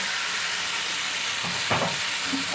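Bombay duck fish (lote), rubbed with salt and turmeric, drops into lightly fried spices in a pan, giving a steady close sizzle with a brief louder hiss and stir as the fish goes in.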